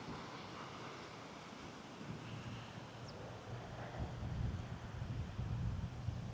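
Waves breaking on the shore at Ellis Beach, a steady wash of surf with wind noise, swelling louder toward the end, no voices.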